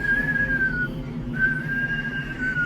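A voice imitates an eerie whistle, two long wavering high notes separated by a short pause, close and clear over a low background hum.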